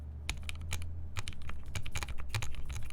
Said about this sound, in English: This twangy sound is the bottoming out of the switch.